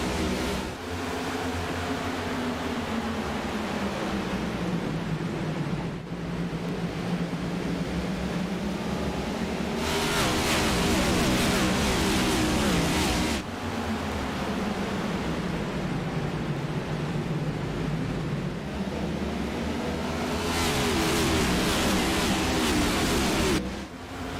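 A full field of race cars roars off at the start at Richmond in a sim racing cup series game, a dense, loud engine drone rising and falling in pitch in long sweeps as gears change, with no talk.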